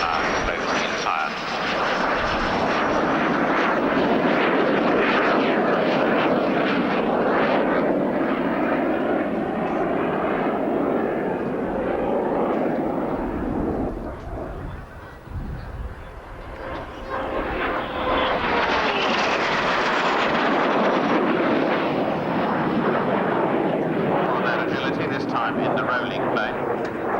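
Alpha Jet roaring through a pass at the RAF Abingdon airshow, a loud jet whine rising and falling as it flies by, with a commentator talking over it.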